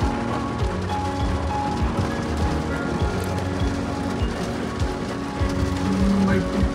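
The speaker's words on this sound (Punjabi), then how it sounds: "ਮੀਂਹ ਪੈਂਦਾ ਹੀ ਥੋੜ੍ਹਾ ਥੋੜ੍ਹਾ" Light rain falls steadily as a constant hiss and patter of drops on surfaces, with no break across the whole stretch.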